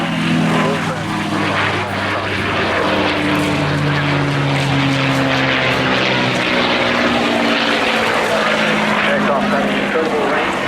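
A North American P-51D Mustang propeller fighter flies at the Eastbourne airshow, its loud, steady engine drone holding throughout beneath an announcer's commentary.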